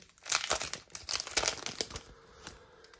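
A Yu-Gi-Oh! booster pack's foil wrapper crinkles and tears open close up in a few quick crackling bursts over about three seconds, fading to faint rustling.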